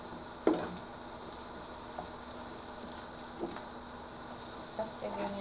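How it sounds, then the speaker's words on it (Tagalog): Ground pork giniling frying in a pan, a steady soft sizzle with faint crackles running throughout, moderately quiet and close, with a few light clinks of a utensil stirring. "Piniprito mo. Masarap po iprito mo na lahat."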